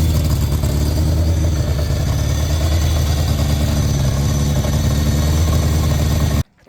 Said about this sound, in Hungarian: Már kész van a motor, működik.